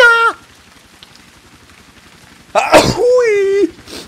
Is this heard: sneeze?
yes